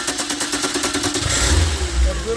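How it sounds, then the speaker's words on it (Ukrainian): A small engine fitted with a DAAZ factory carburetor starts up and settles into a steady running idle, loud and close, with a voice speaking over it. "Запускаємо двигун. Отак воно повинно працювати."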